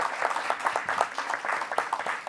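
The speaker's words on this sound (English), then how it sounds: "give her a round of applause for that" Audience members at a school board of education meeting give a round of applause, a brief, moderately loud patter of clapping from a modest-sized room.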